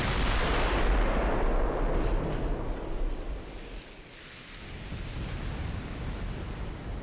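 Heavy naval guns firing at heavy cruisers in a sea battle game, booming in deep rolling blasts that swell, fade midway and build again, with no talking.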